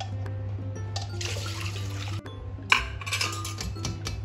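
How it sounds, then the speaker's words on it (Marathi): Water from cooked dal drains through a sieve into a pot below, a steady trickling splash with a few light clinks of metal utensils partway through. "ह्याच्यातलं पाणी गाळून खाली भांड्यामध्ये पडत आहे"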